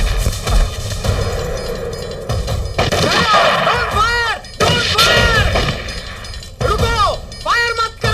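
Gunfire bursts in a dramatic Hindi film scene, loud sharp volleys recurring in clusters across the stretch, mixed with music and shouting.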